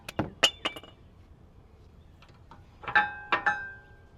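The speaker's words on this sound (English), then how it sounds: "grab some pliers, pull the pads out" Brake pads are pulled with pliers from the Brembo rear caliper of an Infiniti Q50 Red Sport, giving a few sharp metallic clinks in two short bursts with quiet gaps between.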